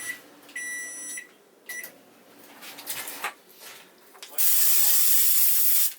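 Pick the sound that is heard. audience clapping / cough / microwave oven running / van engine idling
microwave oven running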